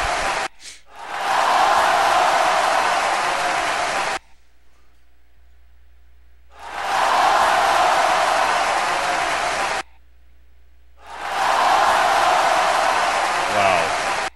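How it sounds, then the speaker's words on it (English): A large live-show crowd cheering and roaring in three loud sustained bursts separated by near-silent gaps, with no talk over the cheering. "Listen to this crowd!"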